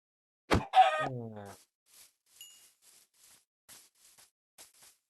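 A short electronic chicken squawk, followed by faint scattered clicks and chimes in near silence.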